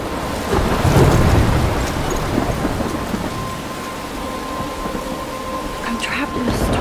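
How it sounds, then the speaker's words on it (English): Thunderstorm in the video game Life is Strange: a steady hiss of heavy rain with low rumbling thunder swelling early on, loud and continuous throughout. "I'm trapped in a storm."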